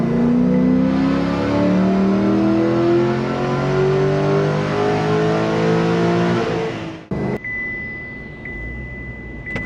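A Holden LS3 V8 with a stock stall runs hard on dyno rollers, its loud engine note climbing steadily through the revs for several seconds before abruptly cutting off, leaving a faint whine and low rumble.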